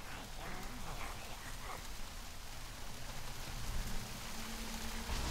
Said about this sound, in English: Ooh, that rain, man.